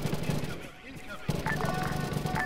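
Gunfire and explosions in a military video game, with sharp bursts of shots close by and a voice talking over them.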